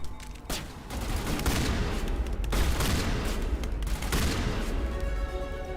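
Shotgun fire in the video game Mass Effect Legendary Edition comes as a dense run of loud, sharp blasts, several overlapping bursts across a few seconds amid combat noise.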